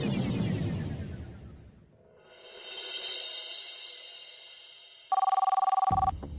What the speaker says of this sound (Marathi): आला फोन आला